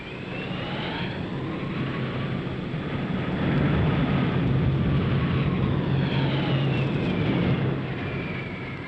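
A jet tanker aircraft refuelling a bomber in flight, a continuous loud roar of jet engines that swells in the middle then eases, with faint whining tones sweeping across it and no voices.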